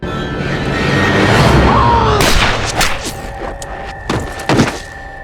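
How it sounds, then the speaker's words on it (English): A gunshot in a tense scene of the TV series Fargo, set in low visibility, comes as a few sharp broadband cracks and thumps over a dense rumbling background, with a further loud hit near the end. "that was a shot on the side"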